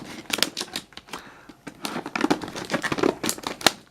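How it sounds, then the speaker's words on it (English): Plastic wrap being pulled and torn off a packaged digital thermometer tool set, a close, busy run of crinkling and rustling bursts with sharp crackles, no talking. "plastic wrap that goes all the way around. Make it as hard as possible to get open."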